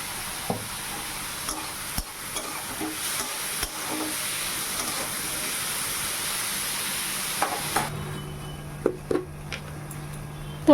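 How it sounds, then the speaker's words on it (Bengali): Sliced bitter gourd fries in hot oil with salt and turmeric, a steady soft sizzle broken by occasional spatula scrapes and clinks, then a quieter stretch with a few knocks and a low hum. "এই যে উচ্ছেটা দিয়ে দিয়েছি, লবণ হলুদ দিয়ে ভালো করে একটু ভাজা ভাজা করব"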